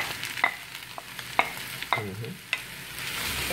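Chopped onions, seven of them, sautéing in oil for a Kerala-style mutton curry, giving a soft steady sizzle with scattered clicks and scrapes of a spoon stirring the pan, close and without talk.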